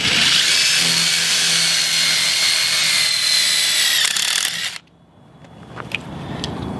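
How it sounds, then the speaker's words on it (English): A loud, high-pitched power drill whines steadily for several seconds, then stops abruptly, leaving a few faint clicks and taps. "I'm going to drill out my holes."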